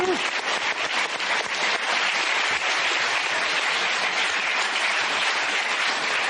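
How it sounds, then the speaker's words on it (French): A TV studio audience applauds a small children's choir on a French Sunday variety show, with dense, steady clapping that stays loud and continuous throughout, no talking over it. "refaire un plan sur cette petite chorale et de les applaudir encore"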